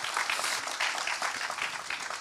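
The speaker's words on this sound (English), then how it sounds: "This is where you do a little round of applause, guys." A round of applause from an audience at a YMCA climate justice and human rights event, even and continuous clapping at moderate distance.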